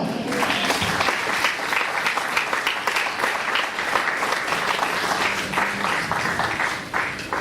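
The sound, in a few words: congregation applauding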